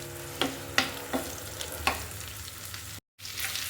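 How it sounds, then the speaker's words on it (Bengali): Chopped ginger fries lightly in a pan with a soft, steady sizzle, broken by a few sharp clinks of a utensil against the pan and one brief dropout, with no voices. "আদা কুচি দিয়ে দিলাম, জাস্ট হালকা ভেজে নিব।"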